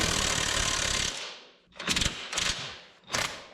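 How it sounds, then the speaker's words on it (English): A ratchet fitted with the wrong-size socket slips on suspension hardware during a 1980 square body 4x4 truck build, giving a sustained grinding burst followed by three short metallic clicking bursts, close and moderately loud. "That was the sound of me putting an incorrect socket on there."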